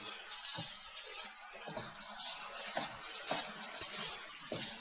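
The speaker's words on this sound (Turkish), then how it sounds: "Bulgurlarımız kavruluyor." Bulgur roasting in a pan, stirred with a utensil that scrapes and clinks against the metal in a loose, repeating rhythm, with a soft sizzle underneath.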